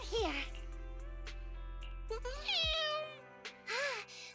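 A cat meows in the video game Zenless Zone Zero, a few sliding calls near the start and end over a steady low game hum, with some voice-like sounds in between.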